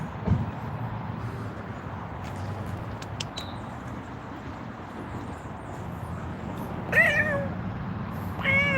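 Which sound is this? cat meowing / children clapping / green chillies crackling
cat meowing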